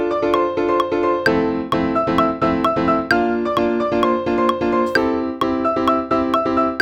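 A keyboard plays a chord progression climbing up the keys with a melody on top, steady struck chords repeating in an even rhythm, full and close, with no one speaking.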